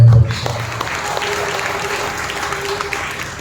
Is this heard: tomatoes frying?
no